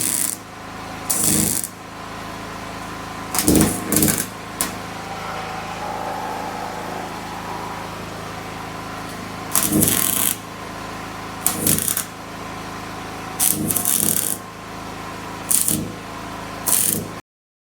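MIG welding on a cut and straightened steel exhaust pipe, with short bursts of crackling buzz, several welds about a second long separated by pauses, recorded close up.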